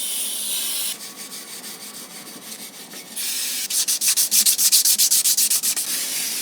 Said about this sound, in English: So let's clean the hub.